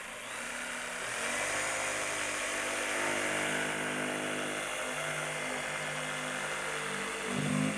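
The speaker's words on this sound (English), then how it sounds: "Simply put the blade of your jigsaw into the pilot hole and follow your pattern." A jigsaw cuts through a plastic food-grade drum being made into a rain barrel, giving a loud, steady, high buzzing whine that runs continuously and close up with no pauses and no voices.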